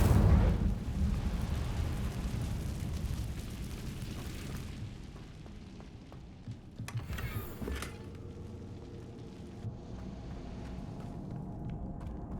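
A fiery Incendio spell blasts out in Hogwarts Legacy, a loud booming burst at the start that decays into rumbling crackle, with a brief hissing flare partway through before a quieter ambient tail.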